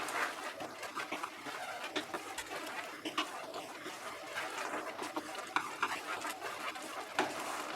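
A spoon stirring masoor dal tadka in a pot, giving soft irregular scraping and tapping against the pot with faint clinks, fairly quiet and close, with no talking.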